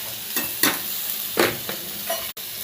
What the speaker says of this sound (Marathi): त्याची भोपळी मिरची टाकायची